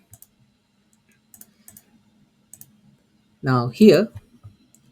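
A computer mouse clicks a few times, sharp and faint, scattered at irregular intervals in a quiet room, then a person starts speaking near the end.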